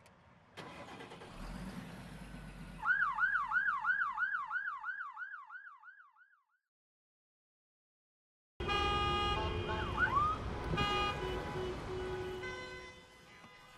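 An ambulance siren wails in a rapid, repeating up-and-down warble over a driving engine, loud and close. It breaks off into silence, then engine and road noise resume.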